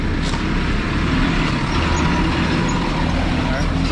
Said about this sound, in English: Got another truck coming through for us